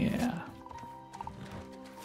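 A unicorn in Hogwarts Legacy gives a brief whinnying neigh at the start, followed by softer hoof and game sounds, with a voice talking over it.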